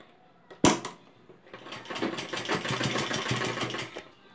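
Sewing machine stitching a kameez collar, a sharp mechanical clunk at the start followed by a steady rapid run of needle strokes for several seconds, close and clear with no speech.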